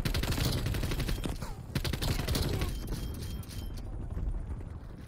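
Rapid pistol gunfire from a first-person shooter match in Call of Duty Black Ops on the Nuketown 84 Holiday map, dense loud shots crackling continuously with a voice talking over them.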